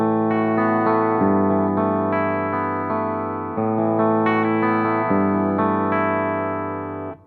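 A PRS electric guitar played through its bridge humbucker with a driven, distorted tone, sustained chords and ringing notes changing every second or so, close and loud, fading at the end.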